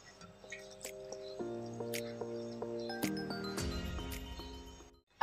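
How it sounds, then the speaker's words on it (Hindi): Milk is poured into a jar for a mango milkshake, a trickling, tinkling stream close by whose tone shifts in steps as the vessel fills, and it ends with a sudden loud knock. "हम इसमें मिल्क डाल देंगे।"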